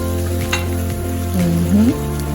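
Chopped onion hits a hot pot for combination fried rice and sizzles steadily up close, with a few brief clanks from stirring.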